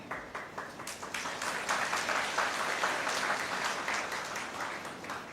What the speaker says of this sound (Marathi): तुम्ही टाळ्या वाजवल्या म्हणून तुमचे आभार मानते